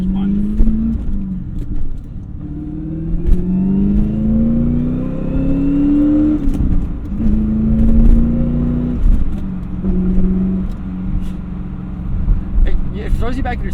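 A manual C4 Corvette engine pulls hard under acceleration, its rising and falling tones sweeping through gear changes from inside the cabin, with people talking over the steady engine note.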